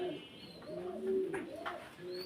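A pair of tiger racer pigeons coo softly in a low, rolling murmur, a few calls overlapping up close with faint chirps in the background.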